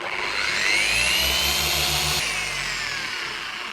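A machine polisher primes a wool pad with compound on the paint of a Subaru WRX, its motor whirring steadily and loud with a pitch that rises and then dips slightly as pressure changes.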